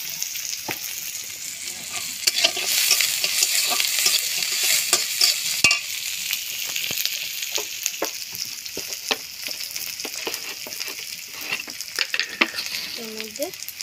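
Potatoes frying in a pan, with a steady close sizzle and crackle running throughout and repeated clinks and scrapes from stirring.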